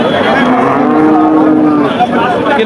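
At a cattle market a cow lets out one long, loud, close moo. The low call holds for over two seconds amid faint crowd noise.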